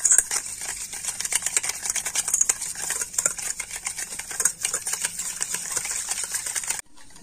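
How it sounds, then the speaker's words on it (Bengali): Sour yogurt and sugar whisked briskly in a bowl, a steady run of rapid scraping and tapping strokes close by that carries on without pause until it stops abruptly near the end. "তো যতক্ষণ না চিনিটা একেবারে গলে যায়, তো ততক্ষণ কিন্তু এইভাবে ফেটিয়ে নিতে হবে।"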